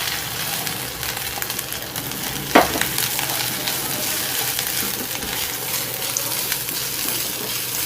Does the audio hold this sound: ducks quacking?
no